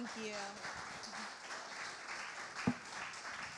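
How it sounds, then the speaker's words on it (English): A small audience claps at a music festival interview setting, a soft, fairly distant patter of applause that continues steadily, with a brief louder knock partway through. "A huge round of applause for Erin Tonkon"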